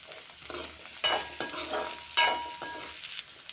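Onions and tomatoes, with garlic, sauté in a pan for a pirandai chutney: a steady sizzle broken by scraping stirs and spoon knocks, close and fairly loud, with no voices.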